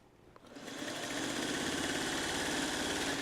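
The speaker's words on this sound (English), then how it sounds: "now I'm going to start stitching directly over top of the stitches where I left off with" A sewing machine stitches the binding on a Trellis Garden quilt, starting after a short pause and then running as a steady, fast, close mechanical whir.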